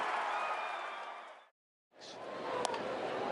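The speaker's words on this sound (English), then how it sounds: "And the Giants, once again, win a game in a very unusual way as this crowd goes crazy." A stadium crowd roars in the MLB The Show baseball video game after a Giants win, a loud, dense wash of cheering that cuts out briefly midway and then surges back just as strongly.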